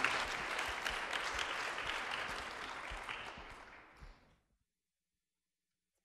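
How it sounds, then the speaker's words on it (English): Morning meetup crowd applauding to welcome a presenter, a steady dense clapping that keeps a moderate level for about four seconds, then tapers off and stops into silence. "Please give her a warm round of applause."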